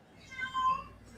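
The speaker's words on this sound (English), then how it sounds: "I can hear your cat." A pet cat meows once or twice in the background of a call, its short tonal cry rising faintly and drawn out for about a second, fairly quiet.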